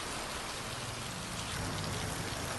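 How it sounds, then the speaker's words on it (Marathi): Pre-monsoon rain driven by strong gusty wind, a dense, steady hiss of heavy rainfall pouring down without a break, loud and close, with no voices. "अनेक भागात सोसाट्याच्या वाऱ्यासह पाऊस बरसलाय"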